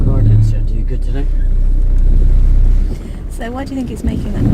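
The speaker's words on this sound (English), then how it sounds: "Car didn't sound too good today." A car engine running rough during a driving lesson gives a loud, continuous low rumble and drone inside the cabin, dropping slightly partway through, while people talk over it.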